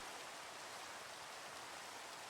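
Steady hiss of rain falling in Minecraft, summoned by a superhero mod's weather control, a dense, even wash of noise with no breaks.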